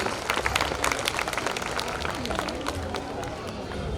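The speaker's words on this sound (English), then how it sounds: "Let's give them a huge round of applause for that dazzling tribute to our country" An audience at an Independence Day cultural program claps for young dancers, a dense steady patter of applause from a crowd, with a voice briefly heard over it.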